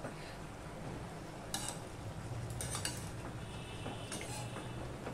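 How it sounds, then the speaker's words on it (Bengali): A utensil stirs fish head curry with Malabar spinach in a pan, faint scraping under a soft background hiss with a few light metallic clinks, quiet and without talking. "নিয়ে আমি এবার তরকারিটা উপর নিচ করে দিচ্ছি"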